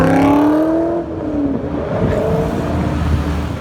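A BMW M3 E46 engine accelerates close by, loud and steady, with engine pitch rising in the opening second before settling into a sustained drone with no talk.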